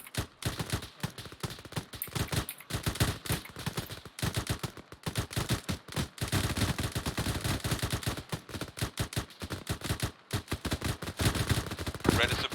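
Rapid suppressing gunfire during a movement-and-cover training drill, dense bursts and single shots crackling almost without pause, loud and close, with occasional shouted voices between volleys.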